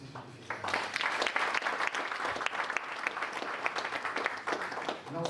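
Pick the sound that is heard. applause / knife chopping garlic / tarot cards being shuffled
applause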